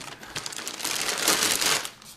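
Cardboard and plastic packaging crinkles and rustles as a children's karaoke CD player is unpacked, a close, continuous crackling that swells toward the middle and fades at the end, with no talking.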